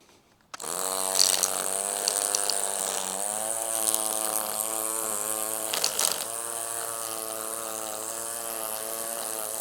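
A cordless 20V HEINPRO 12-inch string trimmer runs in edging mode. It starts abruptly and then holds a steady, loud, close whine, with a brief flare where the line catches something.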